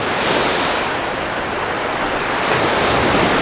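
Rough surf at Alcudia beach, Mallorca, breaking in a steady, loud, broadband wash of waves with wind noise, no pauses over the few seconds.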